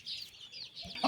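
Decorative Golland chickens cluck softly and steadily among themselves, a close, low murmur of fowl sounds with a brief sharper cluck near the end.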